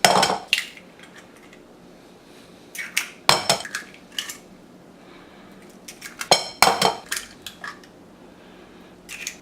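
Three eggs are cracked against a bowl and dropped in for protein cookies, giving clustered sharp taps and clinks in three bursts with quiet gaps between.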